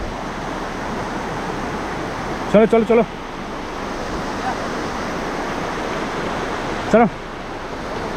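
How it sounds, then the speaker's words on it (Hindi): A small mountain river rushes steadily beside a trekking trail near an old bridge in Uttarakhand after night rain, a constant broad roar close by. A voice briefly calls out twice over the water. "छोटी नदी की आवाज़ आ रही है, तो पानी आसपास ही है"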